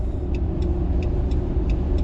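A 2009 Hemi 1500 pickup truck engine drones low and steady from inside the cab under throttle, a constant rumbling exhaust note with faint rhythmic ticking above it.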